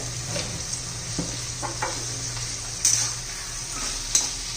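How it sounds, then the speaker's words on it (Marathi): Cluster beans (gavar), lightly salted, stir-fried in oil over a high gas flame: a steady close sizzle runs throughout, broken by a few sharp spatula scrapes and clinks against the pan. "चांगली अशी गवर आपण परतून घेऊया शिजून घेऊया तेलामध्ये मोठ्या गॅसवर चांगली परतून घ्यायची आहे"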